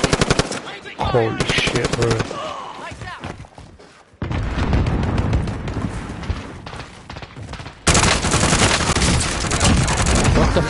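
Video game gunfire from an online team shooter: rapid machine-gun bursts and heavy shots in dense volleys with a brief lull, while a player exclaims over the noise.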